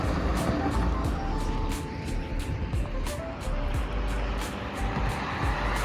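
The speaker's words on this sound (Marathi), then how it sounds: "किती स्पीडनी गाड्या येतात बघा ना." Cars and trucks speed past on the Mumbai-Pune Expressway, a steady loud roar of road traffic with repeated whooshes as vehicles pass close by.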